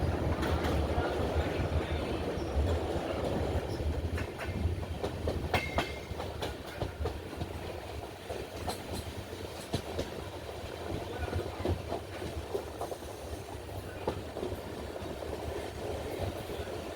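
The Himsagar Express runs along the railway near Neyyattinkara, a steady interior rumble with rhythmic clickety-clack of wheels over rail joints and a low engine drone, moderately loud throughout.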